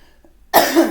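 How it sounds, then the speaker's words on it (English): A single loud, close cough bursts out after a moment of near silence. "Apologize for the coughing, guys."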